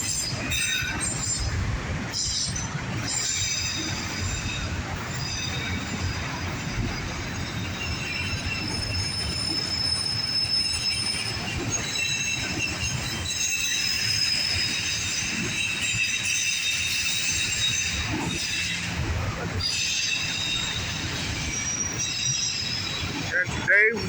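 A northbound CSX freight train hauling autorack cars rolls steadily past at close range, a loud continuous rumble with wheel squeal and clatter throughout and no speech.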